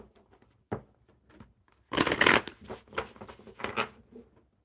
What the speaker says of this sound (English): Let me shuffle these up one more time real good.